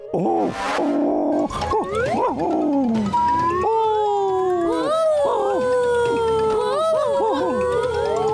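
Cartoon dogs howl and yelp in a lively animated scene, several rising and falling howls overlapping loudly one after another, with a short bark-like burst near the start.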